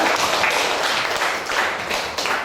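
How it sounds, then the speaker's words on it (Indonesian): A class of students applauding together in a schoolroom, a dense, steady wash of many hands clapping that fills the whole stretch at close range. "Ya, tepuk tangan ya semuanya."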